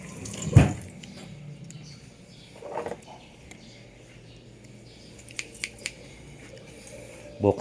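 Scissors snip at gift wrapping in a few sharp, brief cuts, followed by rustling and light scraping of paper, with scattered quiet clicks and soft background voices.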